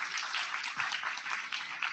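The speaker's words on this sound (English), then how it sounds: "please give them a round of applause" Soft, distant audience applause after a university talk on surviving the Holocaust, an even wash of clapping that stays faint throughout.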